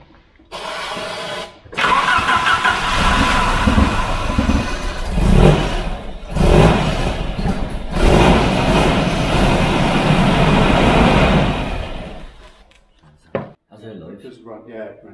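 An old Volvo 740 engine, unused for ten years in storage, cranks and catches, then runs roughly for several seconds before cutting out, with voices nearby.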